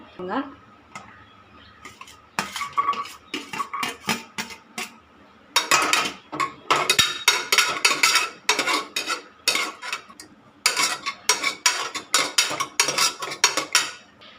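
Knife chopping tomato, small onions and garlic on a board in quick irregular bursts, close and crisp, with brief pauses between runs of cuts; faint background hum, no voices.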